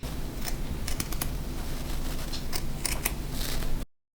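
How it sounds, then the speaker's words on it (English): Scissors snip through knitted fabric in a quick series of crisp cuts over a faint steady hiss, ending abruptly. "I will even add you a little bit of ASMR how I'm cutting it because of the sound"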